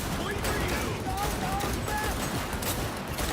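Automatic gunfire in a video game, a fast continuous stream of shots that runs loud and unbroken through the whole stretch, with faint voice traces underneath.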